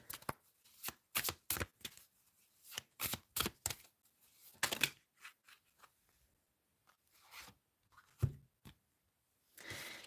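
Tarot cards shuffled by hand in a series of crisp riffling bursts and flicks, loud and close with short pauses between, no talking.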